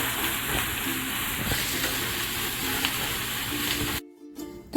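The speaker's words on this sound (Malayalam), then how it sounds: "ഇതെല്ലാം ഇട്ട് നന്നായിട്ടൊന്ന് വഴറ്റിയെടുക്കണം." Onion, ginger-garlic paste and green chili sautéing in a pan, a steady close sizzle and hiss running for several seconds before cutting off abruptly near the end.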